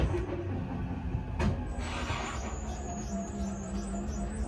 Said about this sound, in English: The motor seems like it's dragging a little bit slow